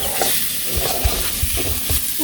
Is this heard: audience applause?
no